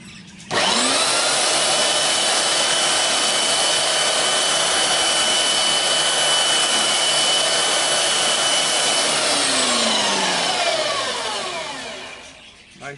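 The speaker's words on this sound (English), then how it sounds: "I'm just going to sand the faces a little bit more on here." Steady, loud whine of a power sander smoothing the faces of wooden Japanese geta shoes, running continuously for about twelve seconds before winding down at the end.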